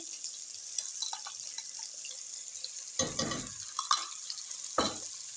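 Ginger-garlic paste drops into a hot pan for beef pulao, giving a steady background sizzle with louder bursts of frying and stirring around three and five seconds, no voices.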